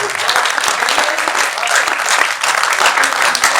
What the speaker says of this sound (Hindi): इसके लिए बहुत तालियां बजाइए।